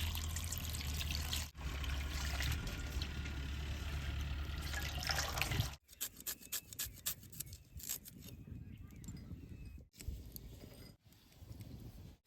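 Green chillies washed by hand in water, with steady rushing and splashing for several seconds, then quieter intermittent dribbles and light rubbing sounds close by.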